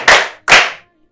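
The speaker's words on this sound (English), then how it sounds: "Clap for him!" Two sharp hand claps about half a second apart, loud and close, with nothing else heard between or after them, like a small group clapping for a classmate during a lesson.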